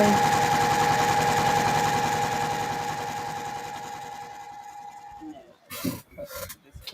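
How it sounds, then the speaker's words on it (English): A sewing machine backstitches a pillow seam with a fast, even mechanical hum close by that gradually fades and stops, followed by a few louder clunks and rustles. "I'm also going to make sure that I backstitch this one because I want this to stay."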